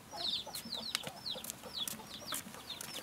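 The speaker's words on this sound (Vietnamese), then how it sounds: "Ồ, có cả gà con nữa" Several chickens and small chicks cluck and peep in a farmyard, a close, busy run of short repeated calls with brief bursts of louder noise.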